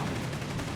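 Machine gun and rifle fire in Company of Heroes 3, a brief dense burst of rapid gunfire crackling loudly throughout.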